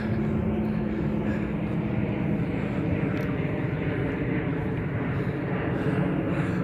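Jet aircraft, including Boeing planes, drone overhead above Seattle as a steady, broad engine roar that holds at moderate loudness throughout.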